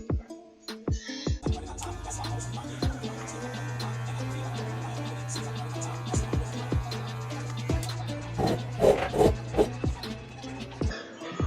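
Electric hair clippers fitted with a 1.5 guard hum steadily while cutting the back of the head, close and continuous, with brief rubbing and handling noises at the start and end.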